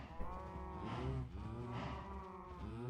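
Cows in a Minecraft-style hardcore video game lowing in long, overlapping moos close by, a drawn-out bovine call repeating over a steady background.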